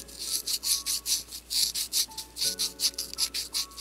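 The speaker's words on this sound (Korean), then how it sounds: "세밀하게 윗면, 아랫면, 옆면, 안쪽면 전체적으로 다 샌딩 작업을 해주셔야 되는 거죠." Rolled sandpaper rubbing a miniature bowl, quick rhythmic back-and-forth scratchy strokes, about a dozen in steady succession, close and soft, with faint tones in the background.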